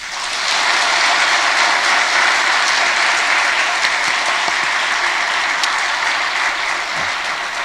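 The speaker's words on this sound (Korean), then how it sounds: "축복의 박수 한번 해주세요." A church congregation applauds in a loud, dense, continuous wash of clapping that holds steady for several seconds without speech.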